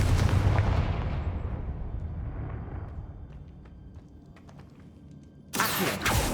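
A Confringo fire spell blasts in Hogwarts Legacy, a loud booming burst that rolls off into a long fading rumble, followed by a second sharp impact near the end.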